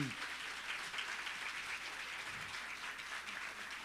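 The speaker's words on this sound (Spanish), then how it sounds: "Un gran aplauso." Applause from the audience at an academic talk on democracy and civilizational crisis, a soft, fairly distant spread of clapping that holds steady for a few seconds with no clear speech.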